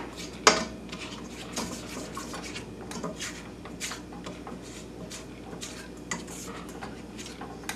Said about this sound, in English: I'm going to need to scrape down the side right here to make sure everything is incorporated.